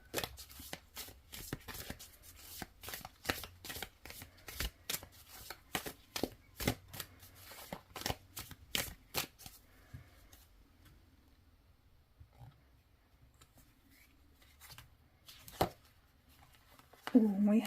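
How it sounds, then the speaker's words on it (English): A deck of oracle cards is shuffled with a quick run of crisp riffling flicks close to the microphone, then the cards settle into quieter handling with occasional soft taps. "let's shuffle the cards and pick a card and see what the message is."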